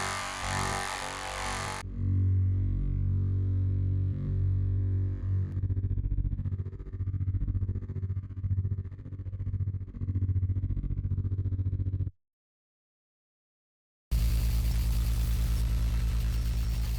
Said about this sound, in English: electric buzzing. 2 sounds, each compressed, touched with an equalizer and modulated with a tremolo to echo the vibe of the machine's operations